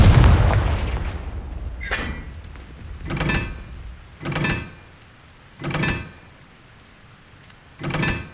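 Confringo fire blast spell cast repeatedly in the Hogwarts Legacy video game, five loud whooshing blasts spaced about a second or so apart after an opening rumble, with no speech.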